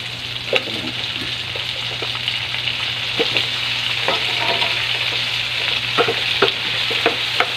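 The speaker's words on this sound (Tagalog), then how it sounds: "Ilagay na natin ang kamote." Sweet potato sizzles in a frying pan with pressed tomato, a steady close crackle of frying with light stirring scrapes and clicks throughout.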